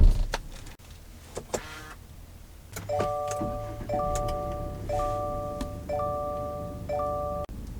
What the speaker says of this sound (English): this is just to open up the hatch